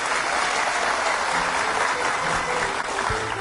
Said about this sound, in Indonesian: Coba yang kasih tepuk tangan buat burung berapa tepuk tangan?